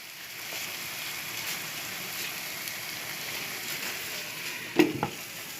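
Gur halwa cooking on a low flame makes a steady, soft sizzle and bubbling that holds even throughout, with a brief clink of a utensil near the end.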